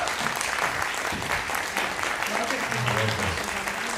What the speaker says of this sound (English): Could we give a round of applause to all these folks here before we break up?